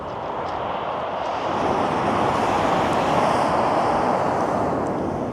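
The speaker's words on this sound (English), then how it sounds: "That wind is dreadful." Strong wind at the sea shore of Chesil Cove, a loud, continuous roaring rush that swells slightly partway through, with no voices.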